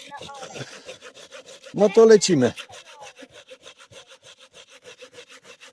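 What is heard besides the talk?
hand saw cutting wood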